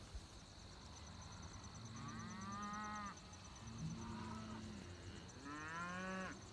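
Cattle on a farm give several drawn-out moos from a few animals in turn, fairly faint over a steady background hum.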